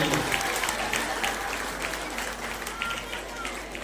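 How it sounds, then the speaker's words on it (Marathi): Audience clapping at a Marathi colony cleanliness and Gauri-Ganpati decoration prize ceremony, a dense, steady round of applause from a crowd with murmuring voices mixed in. "त्याबद्दल सर्वांनी आपण आज टाळ्या वाजून त्यांचं अभिनंदन"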